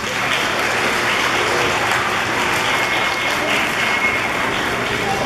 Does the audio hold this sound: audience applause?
yes